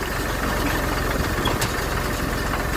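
A tractor idles steadily on arrival in a rural field, its mid-pitched engine rumble continuous and fairly close throughout, with no talk over it.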